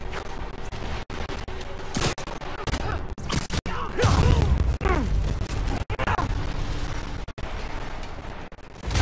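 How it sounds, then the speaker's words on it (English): A loud booming explosion bursts out amid Marvel's Spider-Man Remastered game sound effects and muffled voices, with rumbling debris and crackling in its wake. "An explosion just... I saw it."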